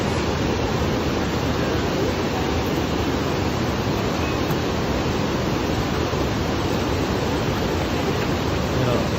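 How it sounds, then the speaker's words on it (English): A waterfall roars as a dense, steady, unbroken wash of loud rushing water. "That is cool waterfall."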